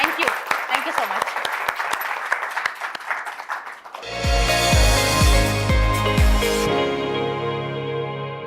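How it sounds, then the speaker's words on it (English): Studio audience applauding at the close of a news channel interview show, dense clapping building loudly and steadily for a few seconds before tapering off, with talk underneath at the start. "I think we must clap for the audience today."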